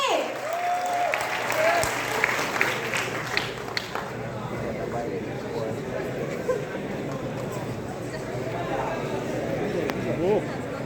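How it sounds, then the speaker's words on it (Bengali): Loud applause from a gathered crowd welcoming a volunteer at an event, steady clapping that continues throughout with voices and chatter mixed in. "জোরে করতালি"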